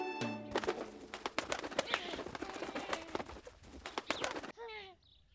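A pigeon coos in a children's storytelling show, a soft burst of rolling coos and calls coming at the tail end after a stretch of dense, busy sound, near and clear.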